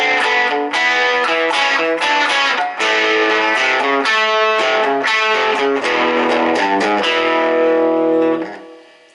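A crunchy, distorted, Plexi-style electric guitar tone from the bridge pickup plays chords and riffs steadily at full volume, then rings out and fades at the end.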